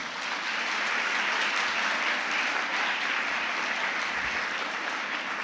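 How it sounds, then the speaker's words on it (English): Steady, dense applause from a large audience at a school Model United Nations valedictory function, sustained at an even level throughout with no talk over it. "I request the audience to give them a huge round of applause."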